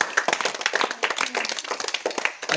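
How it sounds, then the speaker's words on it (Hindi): A group of primary schoolchildren clapping at a rural school, a brisk uneven burst of hand claps, close and lively, fading slightly toward the end. "ताली बजाओ यार"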